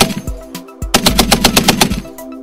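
A Browning M2 .50 caliber heavy-barrel machine gun on an M2A1 mount fires loudly and up close, a couple of separate shots followed by a rapid, steady automatic burst of booming rounds.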